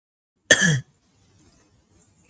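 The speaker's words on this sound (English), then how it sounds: "Excuse me, I have this cough also." A single harsh cough sounds up close after a moment of quiet, then a long hush before another cough begins at the very end.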